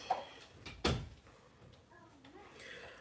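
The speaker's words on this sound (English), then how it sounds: "Close the door." A door pushed shut in a home, a single sharp thud near the start, with people chatting and saying goodbyes around it.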